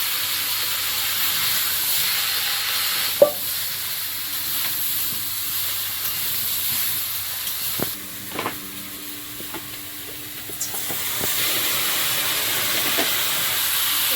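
Vegetables and potato fry in a pan with onion, green chilli, tomato and stalks, giving a steady, even sizzle throughout with a few sharp utensil clinks and scrapes near the middle.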